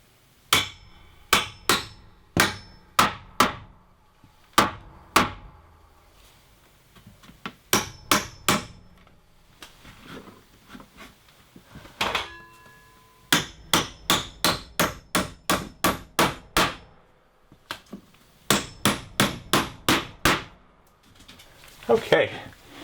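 A hammer drives nails into a board during a tiny house loft ladder build, with sharp, close, loud strikes in quick bursts of several blows separated by short pauses.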